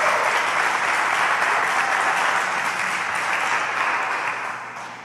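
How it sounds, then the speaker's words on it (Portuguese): A youth church congregation claps in steady, full applause that holds strong for several seconds and then tapers off near the end, with no talking over it. "dê um aplauso ao sacrifício que Jesus fez por você."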